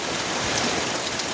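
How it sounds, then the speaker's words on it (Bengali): Heavy rain pours steadily outside, a dense, unbroken hiss of falling water with no pauses and no voices. "ঘুম থেকে ওঠার পরে দেখছি বাহিরে প্রচুর পরিমাণে বৃষ্টি হচ্ছে"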